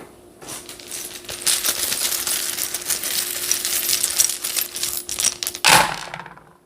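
Small metal charms cast during a divination reading, a dense shower of clinking, jingling pieces tumbling and settling for several seconds, close and loud, ending with a final rattle and no talk.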